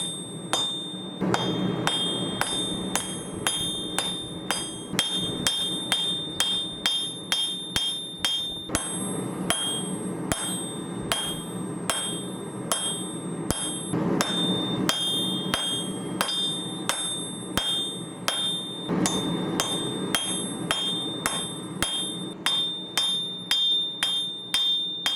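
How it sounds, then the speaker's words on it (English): A hammer forges out the blade and tang of a Kiridashi knife on an anvil, with a long run of loud, ringing metallic blows in a steady rhythm and short pauses between bursts. "your first step is to forge out the blade and the tang to the desired shape"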